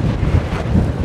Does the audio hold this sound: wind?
yes